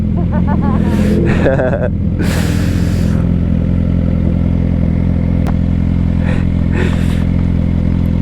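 Scooter engine droning steadily and loud while riding through town at night, with passing traffic and brief clattering bursts layered over it.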